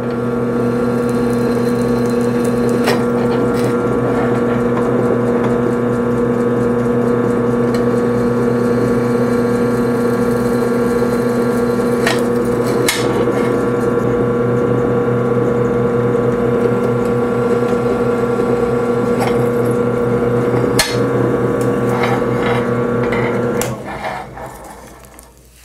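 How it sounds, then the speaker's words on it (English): A drill runs steadily while boring out center-punched holes in metal for a 27000-watt load build, a continuous loud motor whine with occasional clicks, winding down at the end, with no speech. "Now, just to drill out all the holes."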